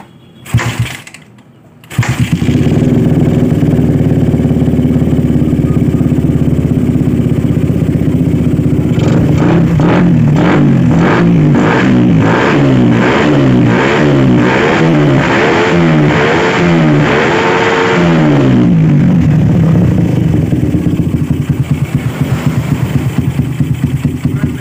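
A Suzuki Satria FU motorcycle with a messy stator, regulator and CDI wiring fires up after a brief quiet moment, then runs loud and close, idling with repeated rising and falling revs throughout.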